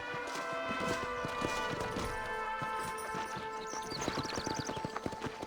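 A horse in the Red Dead Redemption game clip-clops steadily at a brisk pace, with faint tonal ambience and scattered clatter behind the hooves.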